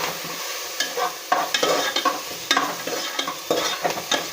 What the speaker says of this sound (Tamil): புதினாவையும் போட்டு நல்லா வதக்கி விடுங்க.